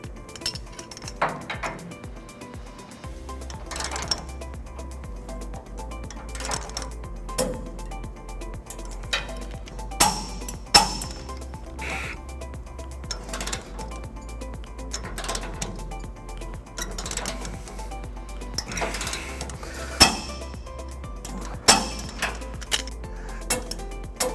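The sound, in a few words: socket wrench torquing trailer hitch bolts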